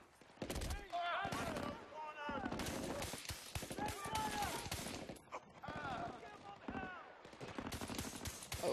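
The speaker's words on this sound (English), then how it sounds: "Oh wait, this gun's full automatic." A fully automatic gun fires in Battlefield: Bad Company, long sustained bursts of rapid shots loud and close, broken by short pauses, with voices talking and shouting over the shooting.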